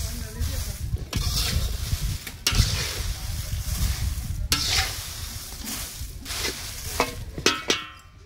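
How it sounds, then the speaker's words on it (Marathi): Seeds roasting in a pan, a dry rustling sizzle with repeated stirring scrapes and occasional knocks, close and loud, with some faint voice in the background. "बी पण भाजून घेते."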